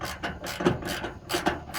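A 3/4 deep well socket tightens a bolt on a Winnebago HWH StoreMore flat floor slide-out rail assembly, giving a close series of rough ratcheting and rasping bursts in an uneven rhythm with no talking.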